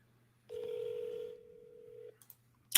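A telephone call being placed: a steady tone sounds on the line, then shifts pitch and cuts off, followed by short beeps and a click, quiet and close with no talking.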